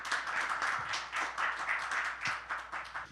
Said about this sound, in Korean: 하나님께 박수를 한번 돌리겠습니다